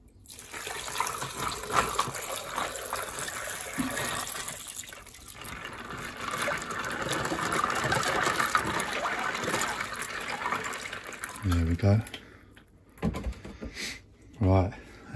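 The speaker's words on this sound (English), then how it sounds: "Now for some water." Water is poured into a container of ice with a steady, close gushing stream that swells and then tapers. A few knocks and brief clunks follow near the end.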